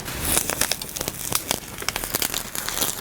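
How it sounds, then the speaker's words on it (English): Cooled transfer artist paper peeled from fabric, giving a close, continuous crinkling and crackling rip that runs for a few seconds with no voices. "Let's see what it's like to peel it when it's cool."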